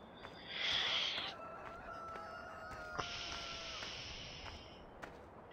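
Chickens in the Farming Simulator video game, with a drawn-out clucking call followed by a second longer cackle, soft and thin over a quiet background, with no talk.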